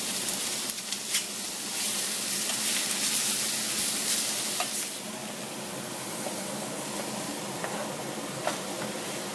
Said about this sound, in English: right now I just want it seared so it has some great flavor